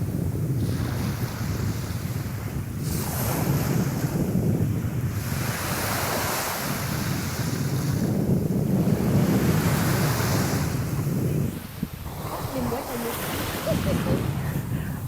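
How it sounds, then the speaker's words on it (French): Ocean waves washing in and out on an autumn beach in Korea between Sokcho and Busan, a loud rolling surge with rhythmic swells, buffeted by heavy wind noise against the microphone. "du flux et du reflux des vagues"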